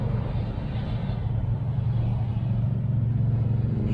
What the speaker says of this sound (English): There's a little hot rod here coming down the highway.